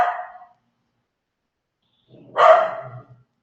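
A dog barking nearby, one bark cut off at the start, then silence, then a second loud bark trailing into a low grumble.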